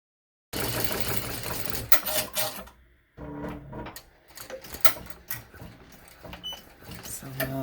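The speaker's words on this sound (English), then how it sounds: "I'm going to go ahead and turn my machine on to try it out and see if this fixes the problem." BAI embroidery machine running a test after a thread-cutting adjustment, a loud, steady mechanical whir and rattle close by that stops briefly partway and then starts again.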